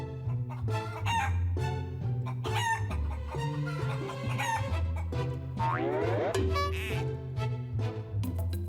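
A cartoon rooster crows over busy background music, its call rising as a bright sweeping cry near the middle and running loud for several seconds amid springy cartoon sound effects.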